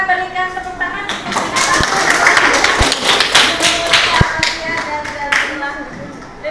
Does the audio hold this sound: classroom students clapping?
yes